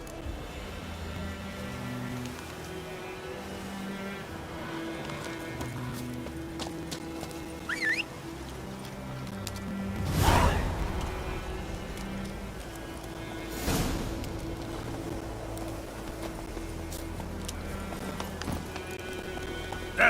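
Roach, the horse in The Witcher 3, gallops with rhythmic hoofbeats over low music. Two louder swells break the steady pounding near the middle, and no one speaks.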